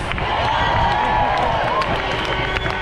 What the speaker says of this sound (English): put your hands together for Alan Hashem and Kathy